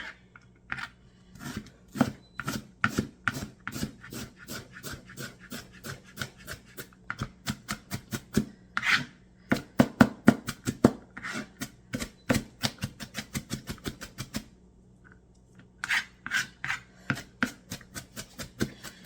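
A knife chops a carrot very finely on a cutting board, giving rapid, crisp, evenly paced taps in long runs with a short pause near the end before the chopping resumes. The sound is close, and nobody speaks.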